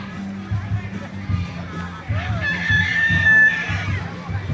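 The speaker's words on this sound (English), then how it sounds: "And chickens." Farm chickens clucking low and repeatedly while a rooster crows loudly in the second half, a drawn-out call rising over the flock, with a person talking nearby.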